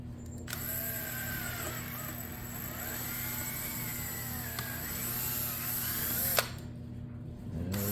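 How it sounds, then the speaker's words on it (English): A power drill bores a hole for a motorcycle side cover, its high motor whine running steadily for about six seconds before cutting off, close and loud. "I'm just going to go ahead and drill."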